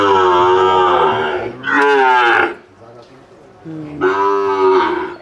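Sahiwal and Gir cattle moo loudly and close by, with two long harmonic calls separated by a short quieter pause, heard at a cattle sale lot.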